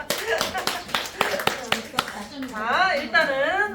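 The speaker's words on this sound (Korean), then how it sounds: "박수!" A group claps at a hair bleaching training seminar: sharp, separate, fairly close claps in a quick irregular run, then a voice speaks over the end as the clapping fades.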